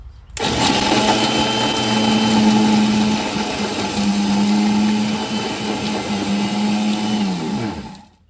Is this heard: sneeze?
no